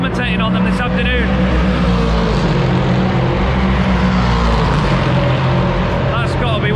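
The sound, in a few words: LMP3 race car engine driving past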